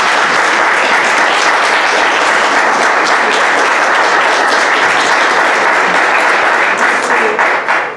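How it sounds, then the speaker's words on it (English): A lecture audience at a hospice and palliative care special lecture breaks into loud, dense applause. The clapping stays steady for about eight seconds, then fades out. "So please, a round of applause"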